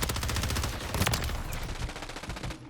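Continuous rapid SMG fire from an HRM-9 in Call of Duty MW3 multiplayer, dense loud bursts of automatic gunfire with game action layered behind, running steadily for nearly three seconds before cutting off.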